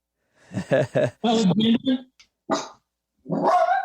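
A house dog barking in several sharp bursts, close and loud, with short pauses between the barks and a final bark after a gap.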